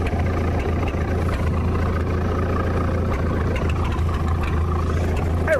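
A heavy vehicle nicknamed Sue idles in a steady, low, continuous rumble as it rolls back slightly with the brake released, the drone even and close throughout.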